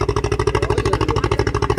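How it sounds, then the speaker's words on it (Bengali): A passenger launch engine on a river on a foggy night, running with a loud, steady, rapid thumping chug at an even rhythm, close and with no talk. "ওই দেখো, ওটা লঞ্চ,"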